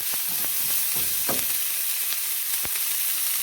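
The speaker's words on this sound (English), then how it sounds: "Saute the vegetables in the oil." Vegetables sauté in hot oil in a pan, giving a steady bright sizzle and hiss throughout, with a few soft stirring clicks and scrapes at close range and no voices.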